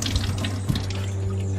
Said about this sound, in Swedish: Rinnande vatten.